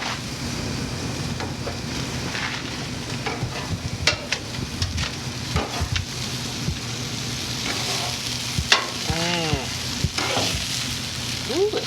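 Sausages sizzle on a flaming outdoor grill with metal skewers, giving a steady crackling hiss throughout with scattered pops and clicks close by. A brief squeak comes near the end.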